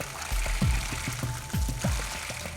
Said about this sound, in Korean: 지금 샤워하는 중이에요